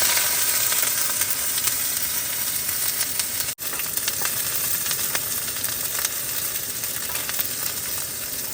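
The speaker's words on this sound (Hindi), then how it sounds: "तो भाई तेल गर्म हो चुका है और अब डालते हैं इसमें हम प्याज" Onion fries in hot oil over a campsite stove, a loud, dense, steady sizzle right up close that carries on without a break apart from one brief dropout; no one speaks.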